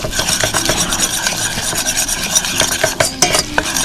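Whisk stirring flour into melted butter for fried chicken gravy, a busy scraping and rubbing against the pan with a soft sizzle underneath, close and continuous with sharper clicks toward the end.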